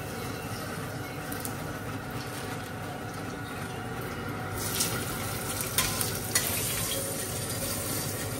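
Onion fries in a pan with curry leaves and asafoetida, a continuous loud sizzle that grows brighter midway as stirring adds a few scraping clinks.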